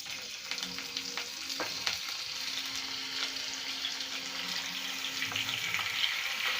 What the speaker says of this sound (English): Then we are going to add in our beef inside the hot oil.